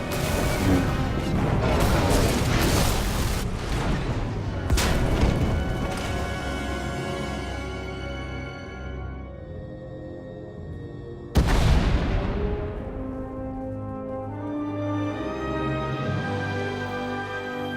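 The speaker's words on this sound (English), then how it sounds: "We heard explosions." Explosions and crashing debris resound in the Star Wars: The Old Republic game, a heavy rumbling blast that rings out and fades, then a second sharp impact with a long metallic, echoing decay.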